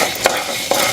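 Black pepper and cumin dry roasting in a pan, a steady soft crackle and sizzle with two brief sharper stirring scrapes, close and alone.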